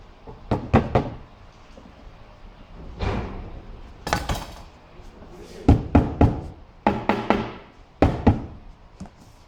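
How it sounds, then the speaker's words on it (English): A rubber mallet taps the bottom panel of a 3-drawer base cabinet drawer into place, with sharp knocks in small clusters separated by pauses, close and fairly loud. "you might need to use the rubber mallet to make sure it slides fully into place"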